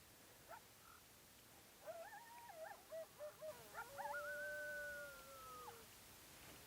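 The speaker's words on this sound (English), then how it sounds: "Here are coyote friends." Several coyotes howl in a frozen desert on a freezing cold morning, rising and falling wavering cries that overlap, moderately distant and alone against a quiet background.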